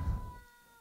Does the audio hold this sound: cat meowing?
yes